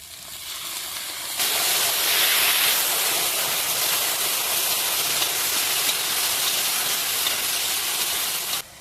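Water poured into hot frying spices for village-style egg pulao sets off a sudden loud, steady hiss of sizzling and steam that starts abruptly and holds for several seconds.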